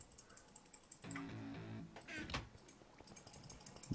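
A computer mouse clicks rapidly during a Minecraft Tekkit game session, a quiet run of crisp, rhythmic taps that grows busier toward the end, broken by a brief louder tonal sound in the middle.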